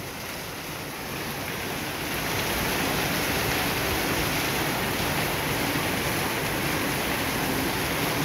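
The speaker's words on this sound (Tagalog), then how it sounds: "So ganon kalakas ang bagsik ng ulan na dala ni Karina." Torrential rain from Typhoon Carina pours down in a dense, steady roar that swells slightly after the first couple of seconds, loud and continuous with no voices.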